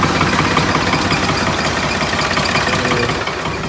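A farm tractor runs at a steady, loud idle with dense low rumble and a slight knocking pulse throughout, no clear start-up surge, alone without talk.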